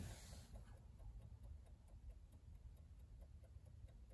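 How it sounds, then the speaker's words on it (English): A rebuilt classic car clock, mounted back in the car, ticks faintly at a steady regular pace against a low background hum. "You can hear the clock."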